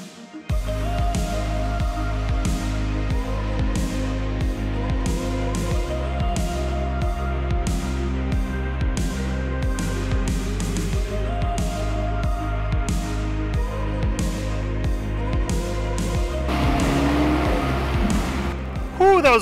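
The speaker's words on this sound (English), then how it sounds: "we're gonna make a little run here up the Osage" A fishing boat with a 16-foot outboard-rigged hull runs up the Osage arm of Lake of the Ozarks, its motor droning steadily and loudly with harmonic whine and wind buffeting throughout, a heavier surge near the end.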